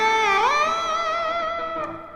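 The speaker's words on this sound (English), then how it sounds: "you're gonna add a bit of vibrato over there" An electric guitar lick from a rock pentatonic run: a sustained, slightly distorted note bends up and then holds with steady vibrato, ringing close and loud for about two seconds before fading.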